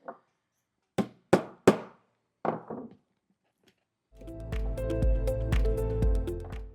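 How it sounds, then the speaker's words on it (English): Nails are hammered into the edge of a large homemade wooden cajón: a few sharp, separate blows with pauses, then a denser burst of quicker strikes over a ringing, resonant background. "I'm going to go ahead and hammer off the rest of the nails on this edge"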